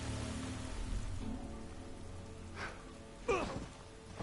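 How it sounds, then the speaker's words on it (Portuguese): Rain falls steadily in The Last of Us Part 1, a faint broad hiss of drops on surfaces that runs throughout, broken near the end by a brief louder rush. "Olha a chuva de lado, velho."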